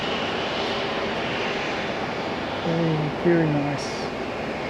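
Jetstar Airbus A320ceo jet airliner with winglets, a steady broad engine roar at moderate distance, with a person speaking briefly over it.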